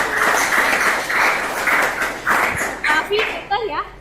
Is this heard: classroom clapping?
yes